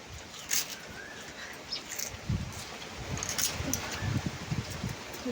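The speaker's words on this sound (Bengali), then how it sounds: "হাওয়া হচ্ছে" Gusty wind from a storm blows through rustling leaves, rising and falling in irregular bursts.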